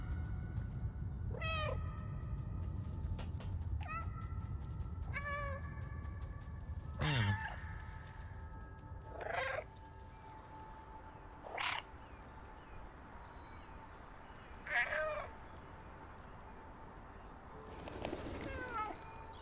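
Cats in the video game Stray meow repeatedly, several distinct cries spaced a couple of seconds apart at moderate volume over a low, steady ambient hum.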